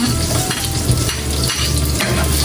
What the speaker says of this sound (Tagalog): Akin na pong igigisa po itong ating ricado. Unahin po muna ay ito pong bawang.